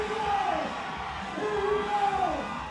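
A live crowd at a bass fishing event cheers and whoops loudly, with rising and falling shouts and hollers carrying over a steady roar of voices.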